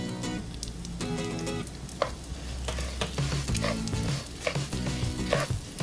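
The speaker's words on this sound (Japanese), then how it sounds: "ダマにならないようにまんべんなく混ぜてください" A spoon stirs salt and pepper through a mixture in a pan, with steady soft sizzling and repeated scraping, stirring strokes throughout.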